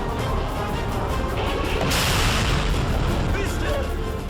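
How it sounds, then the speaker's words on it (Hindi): Kalibr cruise missiles fired from a warship on the Black Sea make a dense, continuous roaring blast that swells around midway, loud and close, with a voice talking over it. "रूस ने ब्लैक सी से कई कैलिबर मिसाइलें दागी,"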